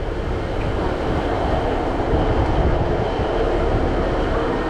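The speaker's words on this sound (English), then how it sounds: "This train is going to be leaving in a second." A stationary train at a platform on a South Wales route, a steady low rumble of idling engine or traction noise with broad hiss, continuous and fairly loud, no talk over it.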